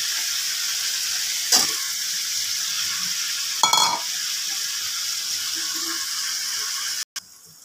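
Potatoes fry in a thick Bengali spice paste for dhokar dalna, giving a steady, loud sizzle with two sharp bursts of hissing spatter before it cuts off abruptly.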